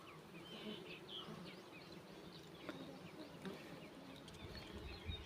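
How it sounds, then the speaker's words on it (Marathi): A swarm of honey bees buzzes just after their hive is cut away, a dense, continuous droning hum of many insects at moderate distance, fairly quiet and with no voices. "त्या पहा गोंगाट दिसतोय सगळ्या माश्यांचा समोर"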